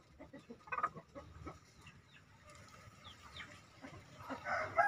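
Hens (babon) of the Bangkok chicken breed kept with a Black Bull rooster cluck faintly in a coop, scattered soft calls rising louder near the end with low background noise.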